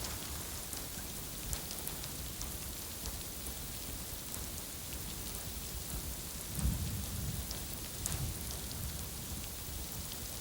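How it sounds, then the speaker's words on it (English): Steady rain falling on the African savanna during the wet season, a dense even hiss throughout, with a low rumble of distant thunder swelling briefly midway and again near the end. "The rains are generous now."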